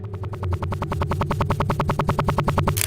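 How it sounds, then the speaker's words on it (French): Tails' spinning tails from a Sonic analog horror tape make a fast, rhythmic whirring pulse, about ten beats a second, over a low droning hum. It is loud and close throughout. "Et c'est le bruit de la queue de Tails qui tourne."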